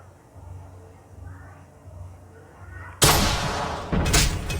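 A bazooka fires in the Call of Duty Mobile video game: a single loud, sudden blast bursts in after quieter game sounds and low murmuring, followed by a second impact about a second later.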